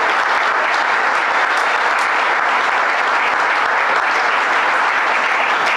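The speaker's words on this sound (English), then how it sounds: "Let's give him a round of applause." Dense, sustained applause from an audience at a New York governor's announcement in Kingston honoring a state senator, steady clapping throughout with no gaps.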